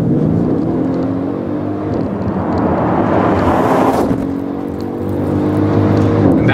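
A Mercedes ML 63 AMG with a 557-horsepower engine accelerates hard, a loud continuous roar building in pitch with a brief gear change around the middle and wind rush behind it.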